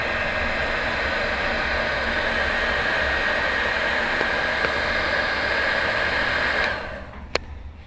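Heat gun blowing hot air to shrink heat-shrink tubing over a wire during a ThunderMax install, a loud steady airy roar with a high whine that cuts off near the end, followed by a single click.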